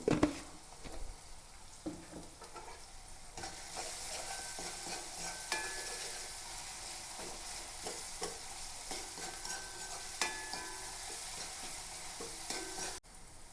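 Onions fry in a pan, a close, steady sizzle with repeated stirring scrapes and clinks of the spatula against the pan throughout, with no talking.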